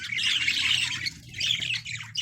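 Australian budgerigars for sale squawking together, a dense, close chorus of harsh chattering calls with brief dips, loud and continuous.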